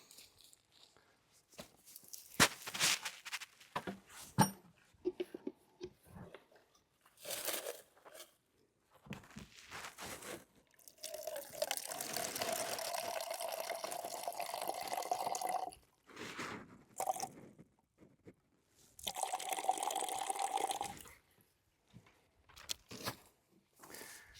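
Water gently poured onto soil during an infiltration test, guided down by fingers to avoid hitting the surface; bursts of soft splashing and trickling alternate with quiet gaps and a few handling crinkles.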